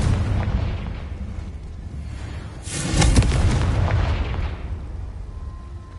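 A Confringo fire spell from the Hogwarts Legacy game bursts into a loud, booming blast that swells and rumbles before slowly fading, with a low steady backdrop and no talk.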